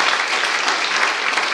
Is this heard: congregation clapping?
yes